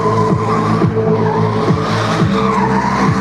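A drift car slides through the first zone of a street drift league practice, its engine revving in repeated sweeps while tires skid and squeal loudly and continuously up close.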